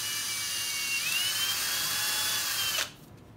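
An electric drill whines steadily as it bores a hole into a piece of cork used as an orchid mount, the high motor pitch rising slightly partway through before the bit stops abruptly near the end.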